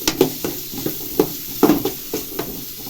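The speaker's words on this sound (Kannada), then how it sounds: "ಈರುಳ್ಳಿ ಹಾಕೊಂಡು ಚೆನ್ನಾಗಿ ಫ್ರೈ ಮಾಡ್ಕೊಳ್ಳಿ, ಗೋಲ್ಡನ್ ಬ್ರೌನ್ ಬರಬೇಕು" Onions frying in a pan toward golden brown for egg curry, a steady close sizzle broken by repeated scraping stirs of a spatula at an uneven rhythm.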